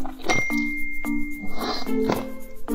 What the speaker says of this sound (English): you just got a message